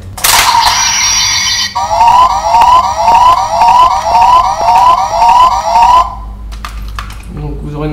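A DX Patstriker toy in its Gokaiger version plays an electronic siren, a loud warbling wail that repeats steadily for several seconds before cutting off into quiet room noise.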